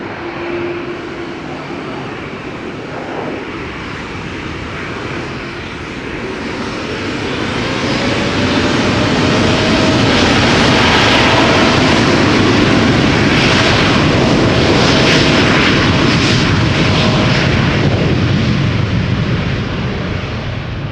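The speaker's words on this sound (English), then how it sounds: "This is Air Canada flight 809. Going to Toronto. 7878." An Air Canada Boeing 787-8 jet taking off from Schiphol Airport, bound for Toronto: a broad engine roar that builds from about seven seconds into a loud, sustained rumble and hiss before easing slightly at the end.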